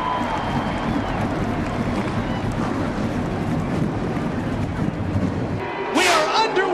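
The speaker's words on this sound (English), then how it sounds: "Green flag racing from Daytona." NASCAR stock cars roaring at Daytona during the 2009 Coke Zero 400 as green-flag racing begins: a steady, loud engine drone from the pack under excited commentary, with a sharp burst of crowd or engine noise near the end.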